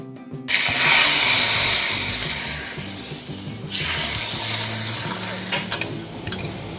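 Chicken fries in a pan at home, a loud, steady sizzle that starts suddenly and keeps going, with a few light clinks toward the end.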